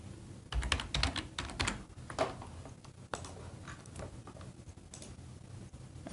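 Close, crisp keystrokes on a computer keyboard while a password is entered, coming in quick irregular bursts with short pauses between them and no talking.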